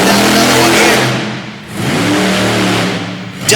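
A monster truck engine revs hard and loud during a competition run at the Monster Power show in Topsfield, Massachusetts. A sustained roar dips briefly in the middle, then climbs back, with no voices.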